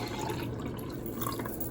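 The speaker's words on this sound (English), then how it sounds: "And let's pour it in this" Lemon-flavored colonoscopy prep liquid pours steadily into a cup, a continuous close splashing trickle with no pauses.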